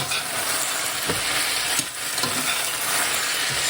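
Teriyaki chicken sizzles steadily in a pan over medium heat while a utensil stirs it, making several distinct scraping strokes through the continuous frying hiss.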